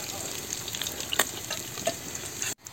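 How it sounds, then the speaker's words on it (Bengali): Beguni, sliced eggplant fritters, sizzle steadily in leftover oil, a close, continuous frying crackle with a few sharper pops, cutting off abruptly near the end. "এই যে এখন বেগুনি ভাজা হইতেছে যে তেলটা অবশিষ্ট ছিল"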